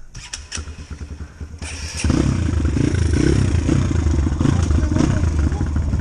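A Kawasaki KLX140G dirt bike starts up: a few clattering cranks and rattles, then the engine catches and settles into a loud, close, steady idle burble.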